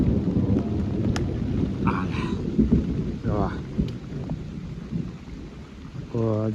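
Heavy rain pours steadily with a deep rumble of thunder underneath, while a few brief voices call out now and then.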